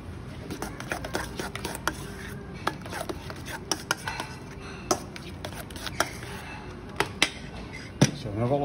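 Gamba ravioli filling being stirred and mixed in a bowl. A utensil makes irregular sharp clicks and taps against the bowl over a soft, steady background.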